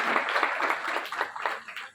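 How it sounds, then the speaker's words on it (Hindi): Applause and clapping from an audience at a gathering, honouring a child, a dense steady patter of many hands sustained throughout and fading slightly at the end. "आप और जोरदार ताली उस बच्चे के लिए"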